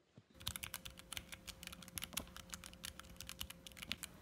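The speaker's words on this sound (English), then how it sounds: "And the clicking sound is not too bad." A Sayo macro keyboard with red switches is tapped in quick, irregular keystrokes, soft but distinct clicks close up over a faint steady hum.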